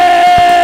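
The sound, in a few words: crowd shouting victory cries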